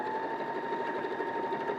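A sewing machine stitching fabric, a steady fast mechanical hum and rhythmic needle patter, close and continuous.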